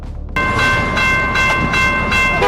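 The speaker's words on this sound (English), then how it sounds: "The car was about to cross the railway but got stuck just as the train was coming" Train rolling along a railway line as it nears a level crossing where a car is stuck, a loud steady rumble with bright sustained tones over it, probably the horn, and rhythmic surges in the roar.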